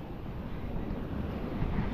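Big ocean waves surge and wash around a small boat out at sea, a steady loud rush of surf mixed with gusting wind buffeting the microphone, with no voices.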